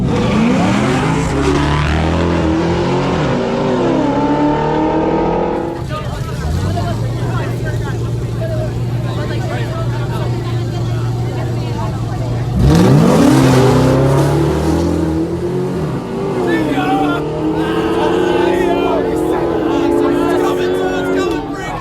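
A high-performance car, such as a Dodge Demon, launches hard and accelerates with one-wheel peel, its engine roaring loud and close and revving up through two surges. Voices shout over the engine noise.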